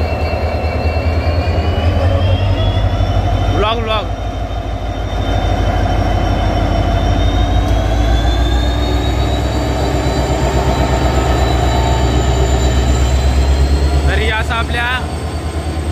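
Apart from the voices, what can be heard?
diesel locomotive train running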